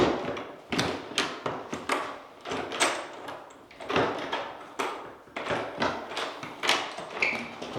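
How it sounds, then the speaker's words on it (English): A door at a church is pushed shut and locked, giving a run of close, sharp knocks, clicks and rattles of the latch and bolt with brief thuds between them over nearly eight seconds. "Make sure we lock this door."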